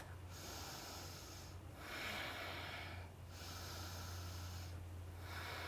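Slow, deep breaths during a twisting yoga pose in a bootcamp workout, heard up close and faint as about three long breathy whooshes in an even rhythm, with no talk over them.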